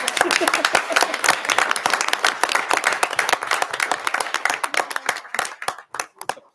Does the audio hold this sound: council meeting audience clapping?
yes